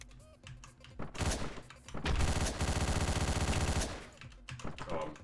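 Rapid automatic gunfire from the top-down video game Hotline Miami, a dense, loud burst of shots lasting a few seconds, framed by shorter scattered shots before and after.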